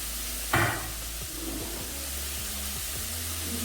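Plantain pieces dropped into a pan of frying onions, giving a brief soft splash followed by a steady, faint sizzle with a few light clinks, heard alone.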